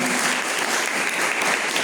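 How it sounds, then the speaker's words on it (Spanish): A church congregation applauding, dense and continuous clapping at moderate loudness filling the whole short moment, with no talk over it. "¿Cuántos le dan un aplauso al Señor en este tiempo?"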